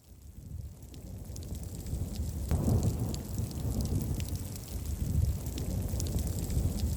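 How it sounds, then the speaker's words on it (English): A thunderstorm with rain hits the climbing crags of Kalymnos, steady rain patters and rushes while low thunder rumbles swell and roll through the middle and end, with wind in the background. "It's throwing thunder, lightning and hail and absolutely everything at us."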